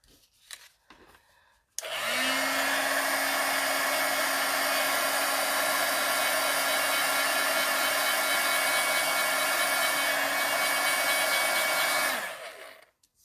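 A hair dryer blows steadily on a freshly die-cut Christmas card, switching on abruptly after a moment of quiet and running loud and unbroken for about ten seconds before cutting off.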